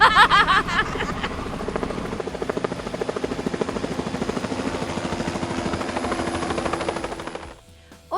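A yellow training helicopter flies at a piloting school, its rotor thumping in a rapid, loud, continuous chop close by for most of the stretch, then dropping away abruptly near the end.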